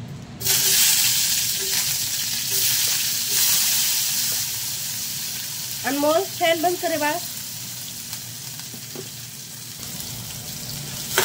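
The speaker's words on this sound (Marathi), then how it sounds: "छान असं फ्राय करून घेते" Green chillies and tomatoes fry in a hot pan, giving a steady close sizzle and hiss throughout; someone briefly speaks over it midway.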